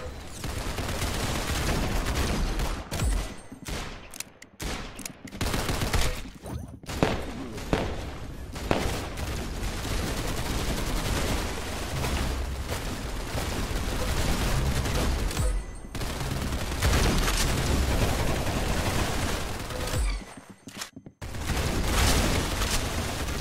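Rapid gunfire from the Roblox Arsenal shooter game on the Matrix map, dense bursts and shots in near-continuous volleys with brief gaps, loud and close throughout.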